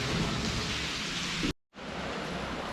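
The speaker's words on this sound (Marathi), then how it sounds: "आता पाऊस चालू झालेला आहे" Steady rain pours down outdoors beside a wrestling training centre with a large hall and open ground, a dense continuous hiss that cuts out briefly for a moment before resuming at the same level.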